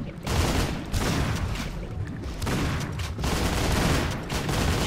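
Rapid, sustained gunfire from the first-person shooter Painkiller: Hell and Damnation during a co-op match, dense and loud with repeated volleys running almost without pause.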